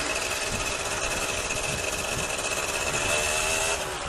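A Yamaha RS100 street tracker motorcycle engine revs close up. Its steady buzzing drone runs loud and continuous with no one talking, though any sputter as it accelerates is hard to pick out.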